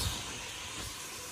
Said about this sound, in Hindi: ये अब फ्राई होगा चिकन